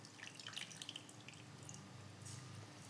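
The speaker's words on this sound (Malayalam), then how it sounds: "അപ്പോൾ ഇത് അവിലിനെ ഞാൻ നല്ലവണ്ണം പിഴിഞ്ഞെടുക്കുന്നുണ്ട്" Soaked flattened rice (aval) squeezed by hand for homemade vada, the water running off in a soft, steady trickle and patter of drips, faint and close.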